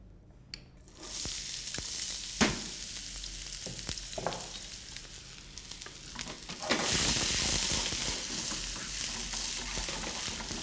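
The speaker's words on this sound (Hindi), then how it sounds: "एक पैन में हमने तेल गरम किया है, उसके अंदर प्याज को भून लेंगे" Finely chopped onion sizzles and fries in hot oil in a pan for keema, a steady close hiss with occasional stirring scrapes that swells louder near the end.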